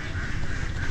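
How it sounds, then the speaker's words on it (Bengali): Dense, continuous chatter of many ducks at a village duck farm in Bangladesh, loud and close, a steady overlapping clamor with no gaps. "অনেকগুলো হাঁস।"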